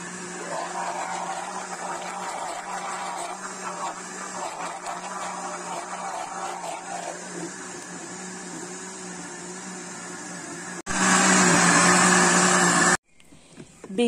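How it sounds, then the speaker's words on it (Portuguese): A kitchen blender whirs steadily while mixing a milk cake batter with water, a continuous motor drone for most of the stretch, then surging louder for a couple of seconds before stopping. "vamos bater todo esse ingrediente agora no liquidificador"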